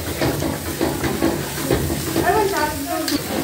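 Food sizzling and frying in a home kitchen pan, with stirring scrapes throughout and people chatting over the steady hiss.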